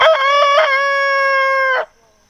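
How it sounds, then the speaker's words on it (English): A backyard farm chicken gives one long, loud, crow-like call from close by. The sustained harmonic note lasts under two seconds and then cuts off into quiet. "they are both chickens that we brought from California"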